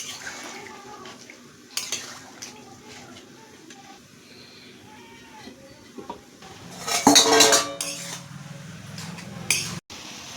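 Water splashes into a cooking pot amid clattering cookware, with quiet kitchen handling at first and a louder gush and metallic knocks toward the end.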